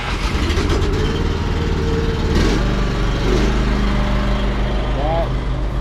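A farm seed tender's engine turns over and runs, a loud, close, steady low mechanical drone with rumbling idle throughout and a brief rise partway through, while someone talks over it.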